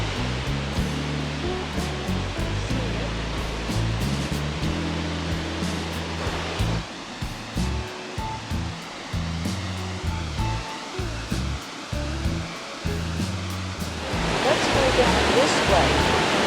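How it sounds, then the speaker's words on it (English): Continuous roaring rush of an Alabama waterfall fills the scene, with a low rumble underneath and the roar swelling louder toward the end. "I'm going to try to get closer to the waterfall here."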